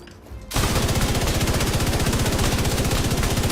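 An exotic light machine gun in a video game, run with a Striker build, opens up after a brief quiet moment into loud, sustained rapid automatic fire with an even, hammering rhythm that continues to the end.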